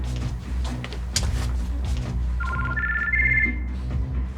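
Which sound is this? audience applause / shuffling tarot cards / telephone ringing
telephone ringing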